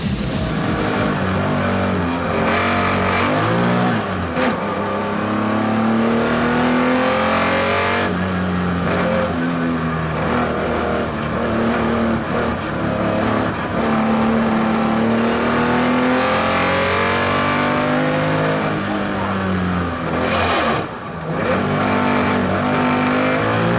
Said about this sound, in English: We live a few moments with them on board Porsche number 11